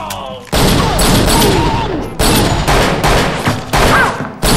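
Pistol gunfire in an action film fight scene, several loud, close bursts of rapid shots separated by brief gaps, with cinematic effects layered in.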